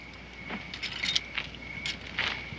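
A bunch of keys jingles as it is picked up: a few light, bright metallic jangles, close but faint, in a quiet interior.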